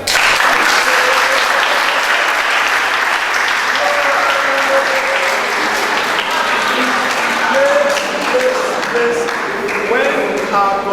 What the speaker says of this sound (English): let us encourage them by clapping